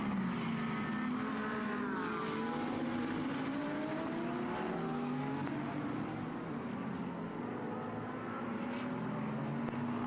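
Race cars lap the Okayama circuit in a Japan Cup race, several engines droning and rising in pitch together, a steady, loud, layered roar from multiple cars passing.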